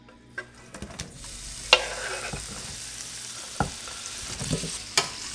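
Onions fry in coconut oil in a pan with a soft steady sizzle, broken by several clicks and knocks of a utensil stirring against the pan.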